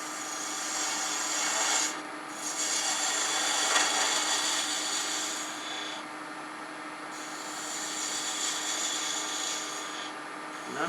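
A woodturning gouge cuts a wooden pepper mill spinning on a lathe, giving a steady, close rasping hiss that runs nearly unbroken, with brief lulls around two seconds and again near six to seven seconds.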